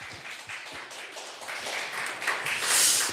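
A church youth-service congregation claps together in a steady, dense patter that swells toward the end, with no talking over it.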